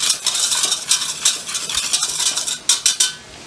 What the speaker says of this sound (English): Then the salt. Then we'll mix this one.